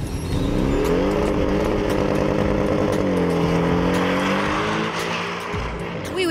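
Porsche 718 Boxster GTS flat-six engine running loud and steady, revving with rising and falling pitch sweeps, a sustained close mechanical roar with no speech over it.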